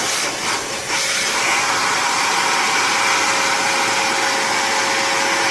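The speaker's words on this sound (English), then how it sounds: "We're going to blow the cold air on the nozzle" Cold air blown steadily onto the hot nozzle of an Anet 3D printer, a loud continuous hair-dryer-like whoosh holding even throughout, with no talking.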